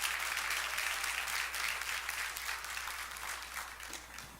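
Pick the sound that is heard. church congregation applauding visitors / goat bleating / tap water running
church congregation applauding visitors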